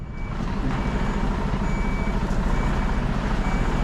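A truck shunting trailers in a yard sounds its reversing alarm: steady, evenly spaced high beeps over a loud, constant diesel engine rumble.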